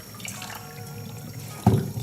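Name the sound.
tap water rinsing pork ribs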